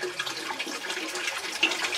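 Concentrated water conditioner is poured into a 125-gallon cichlid tank, giving a soft, continuous watery trickle and splash, close and fairly quiet, with no voices.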